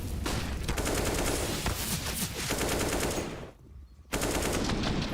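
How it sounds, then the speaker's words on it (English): Counter-Strike gunfire on the Inferno map during a professional esports match, with loud, rapid automatic fire sustained almost throughout and a short lull near the end before shooting resumes. "Guns out on both sides, but this was a huge kill for JDC as well"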